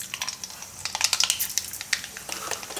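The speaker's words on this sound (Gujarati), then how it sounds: "અને તેલ આપણું ગરમ થઈ ગયું છે. તો તેલમાં આપણે નાખીશું રાઈ" Mustard seeds crackle and pop in hot oil, a rapid irregular stream of sharp close snaps over a soft sizzle, the pops growing denser midway.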